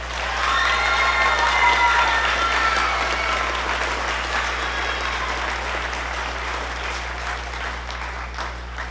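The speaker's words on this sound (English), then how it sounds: "give her a round of applause" Concert audience applauding at a school band spring concert, steady sustained clapping from a large crowd throughout, fairly loud, gradually tapering slightly toward the end with no talk over it.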